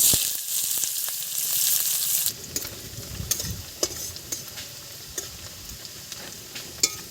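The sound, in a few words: onions frying in oil with spices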